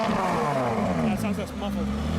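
A supercar engine at a party revs up close, a loud sustained growl rising and settling over about two seconds, with people's voices mixed underneath.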